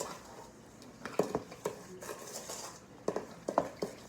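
Sugar being stirred by hand into banana bread batter in a bowl, heard as quiet intermittent scraping and clinking of a utensil against the bowl, close and fairly soft, with no voices.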